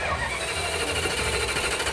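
A 7.2-litre V8 engine of a 1975 Chrysler New Yorker running steadily at close range, a dense, even mechanical rumble with a rapid regular pulsing and no voices.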